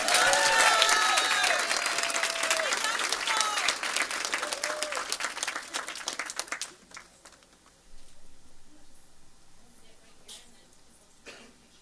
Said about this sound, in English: Can we give a round of applause to the teacher,